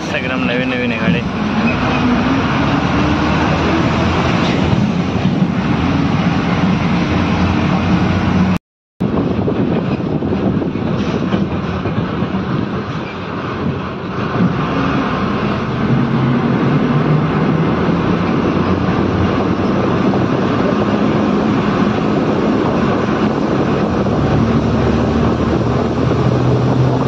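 A new passenger train on the Vaibhavwadi to Mumbai route rumbles steadily with loud continuous wheel and engine noise, running at length with brief talk over it.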